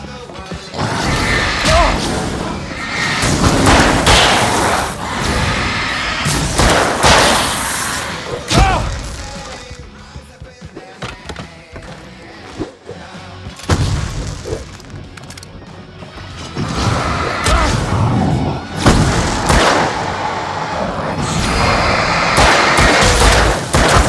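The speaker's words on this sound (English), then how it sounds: "I can set off more of the fireworks from here and help you out!" Fireworks blasting in the Alan Wake video game, a run of loud crashing booms and bangs that thin out midway, then build again to a dense barrage.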